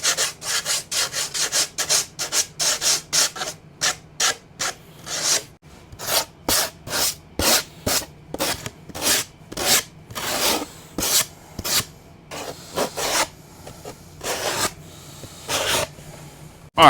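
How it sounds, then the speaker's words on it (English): A small sanding block scrubs burrs off the cut edge of 1/4-inch plywood in quick, rhythmic back-and-forth rasping strokes, close and loud, with brief pauses between bursts. "just take a little sanding block and just get rid of those"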